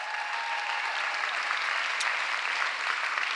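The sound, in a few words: audience applause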